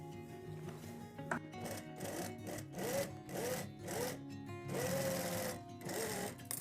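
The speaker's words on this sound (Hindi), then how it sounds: "मैं सिलाई लगा के आपको दिखा देता हूँ" Sewing machine stitching a trouser in short running bursts separated by brief pauses, close and fairly loud, with no talking.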